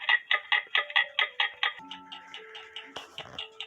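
Clock ticking picked up through a Radio Shack beat amplifier fitted with alligator clips, a regular run of sharp ticks, faint and close, with a thin electronic hum and tones running underneath.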